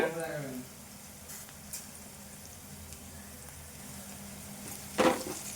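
Onions with ginger-garlic paste fry in a pan with a soft, steady sizzle throughout, a brief clatter at the start and a stir near the end, while someone talks over it.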